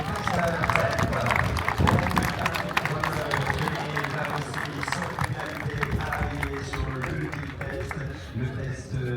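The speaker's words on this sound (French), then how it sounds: "avec vos applaudissements pour saluer Jeanne Perret et son frère." Crowd at a French show-jumping competition applauding and cheering a young podium medalist, with sustained clapping mixed with crowd murmur and an announcer talking over it.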